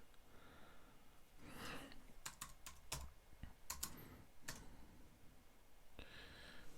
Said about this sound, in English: Oops, I typed the wrong thing in.